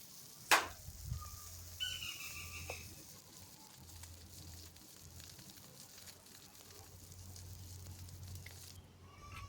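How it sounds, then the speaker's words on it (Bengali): Small puti fish sizzle in mustard oil in a pan, a soft, steady hiss broken near the start by a few clinks and knocks as the fish are turned. "এখন মাছগুলোকে উল্টে অপর পাশটাও ভালোভাবে ভেজে নিতে হবে"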